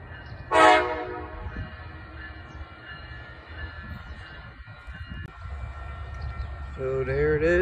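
An Amtrak train rumbles past a Washington riverfront park with a brief blast of its horn early on, a low steady rolling roar building louder toward the end as another horn sounds.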